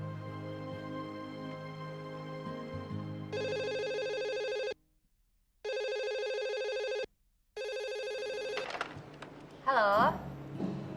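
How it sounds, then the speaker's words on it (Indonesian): A telephone rings in bursts with clear gaps, loud and near, after some background talk, with voices resuming as it ends. "ada telepon dari sekolahan Daniel"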